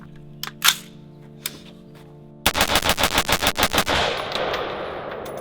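An American AR-15 rifle fired outdoors: a few scattered shots, then a rapid string of about a dozen loud, evenly spaced cracks with ringing echo trailing off.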